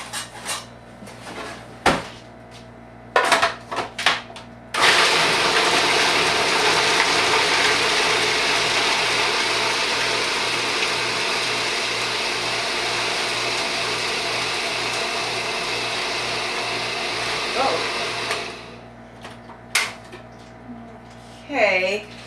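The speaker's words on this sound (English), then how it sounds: "now we're going to start our blending process." A blender grinds nuts for a raw vegan meat loaf in a long, loud, steady whirr lasting over ten seconds, framed by short clatters of kitchen handling before and after, with brief talk nearby.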